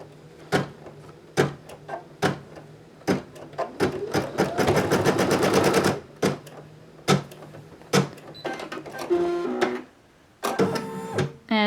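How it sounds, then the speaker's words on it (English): A sewing machine stitches a tack line on plush in short bursts with a longer steady run in the middle, close and clear, with small clicks and handling noises between runs. "I'm ready to go ahead and stitch my second tack line."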